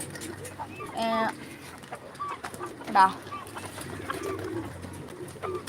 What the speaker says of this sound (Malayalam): പ്രാവുകളെ പ്രാവുകളെ